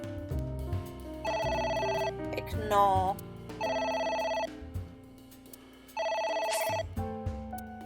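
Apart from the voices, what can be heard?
telephone ringing in the video game AI: The Somnium Files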